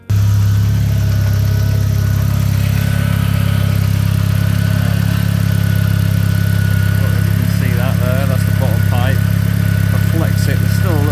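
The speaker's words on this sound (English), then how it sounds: "Probably can hear me over the engine noise." A Mk4 VW Golf 1.8T engine, prone to overheating, idles loudly and steadily nearby, a constant low mechanical drone with a person talking faintly over it.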